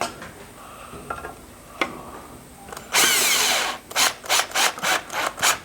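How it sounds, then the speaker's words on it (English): A power drill drives screws into the attachment plate of a braced plumbing-pipe light fitting in a lead shearing shed in Durham. After quiet shuffling, one long whirring burst comes close and loud, then a run of short, rhythmic trigger pulses. "So these screws screw into the attachment plate, giving us a firm connection and a fairly easy install."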